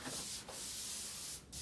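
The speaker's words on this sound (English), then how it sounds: "continuing with the process of sanding this body" Rhythmic abrasive sanding strokes on the steel body of a 1936 Ford Tudor street rod. The strokes are close and loud, with a brief pause between passes.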